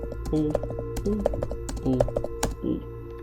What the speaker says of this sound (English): And then we're going to want to type all.